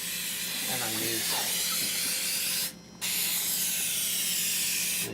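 Pam grilling cooking spray hissing into a skillet for meatloaf, a loud continuous spray that breaks off briefly midway and then resumes, with faint talk under the start.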